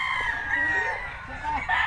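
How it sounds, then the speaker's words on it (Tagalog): Chickens cluck and a rooster crows close by, a brief burst of overlapping fowl calls outdoors among other birds. "Mga manok ah"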